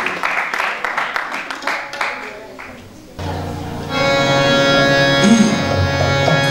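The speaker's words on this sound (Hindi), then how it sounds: "और एक बार तालियां इन लोगों के लिए चाहिए" A crowd claps at a devotional bhajan evening, a dense patter that fades over about three seconds before sustained instrumental music takes over and fills the rest.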